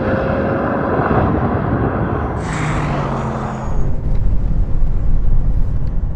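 An Audi S8 and a Bentley Flying Spur thunder past in a drag race, a loud roaring rush of engines and wind that swells and then settles into a broad rumble.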